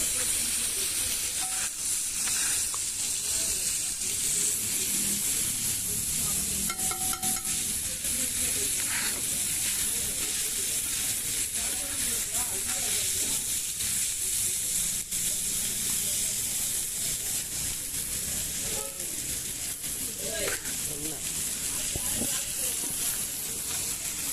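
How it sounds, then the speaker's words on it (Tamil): Chow chow vegetable fries in oil with salt, giving a constant loud hiss and crackle throughout, with a voice faintly underneath. "கொஞ்சம் ஆயில் மட்டும் ஊற்றிட்டு கொஞ்சம் உப்பு போட்டுட்டு நல்லா ஃப்ரை பண்ண ஆரம்பிச்சிடலாம்"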